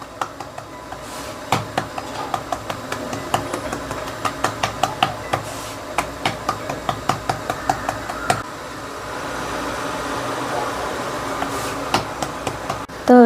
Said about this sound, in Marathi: काटवटमध्ये भाकरी थापताना अजिबात खाली चिटकत नाही. एकदम पातळ आणि छान अशी भाकरी बनवून घेऊयात.